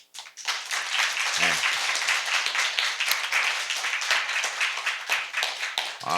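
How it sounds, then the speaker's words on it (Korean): Steady, dense applause from an audience at a Seoul social economy talk event, directed at the staff, rising quickly and holding loud and continuous throughout with a brief voice early on. "저희 우리 직원들한테 큰 먼저 박수 한번 쳐주시고요"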